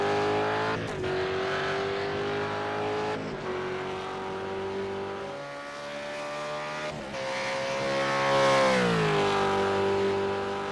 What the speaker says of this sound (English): How good's that car sound? Sounds amazing.